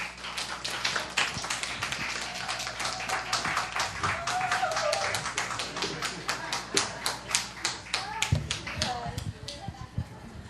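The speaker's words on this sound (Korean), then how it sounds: "박수 부탁드립니다." An audience at a church camp forum applauds with dense, uneven clapping throughout. Sharper individual claps stand out near the front, and a voice speaks briefly under the applause toward the end.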